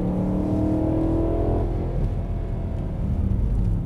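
A BMW E92 M3 with a 420 hp V8 accelerates on a track, producing a loud, close engine roar with rising harmonic tones that fade into a broad rumble, continuous and without speech.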